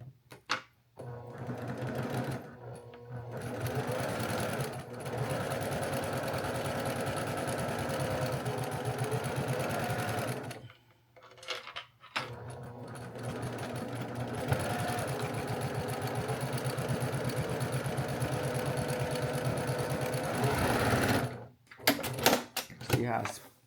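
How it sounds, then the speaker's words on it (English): A sewing machine chain-pieces quilt blocks with a steady, whirring run of needle strokes that stops in a few short pauses. The sound is close and fairly loud, and a person talks over it. "if you chain piece, you could save a little thread."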